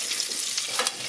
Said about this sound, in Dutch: Ik ben dus aan het koken